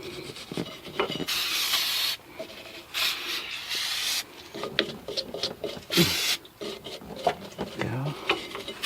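Vigorous bristly scrubbing of rear brake parts on a 2003 Pontiac Sunfire close by, rasping strokes in uneven bursts with short pauses, some scraping and light knocks between them.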